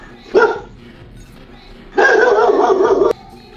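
A dog gives a short bark, then after a pause a longer, drawn-out whining howl, both close and loud.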